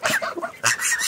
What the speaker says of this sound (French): C'est la poule Sussex.